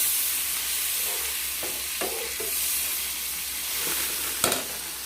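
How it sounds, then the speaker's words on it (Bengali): Masala for pomfret fish dopiaza cooks down in a pan with a little water, giving a soft continuous sizzle broken by several sharp scrapes and clacks of a spoon stirring, close and without voices. "মশলাটা ভালোভাবে কষিয়ে নিতে হবে।"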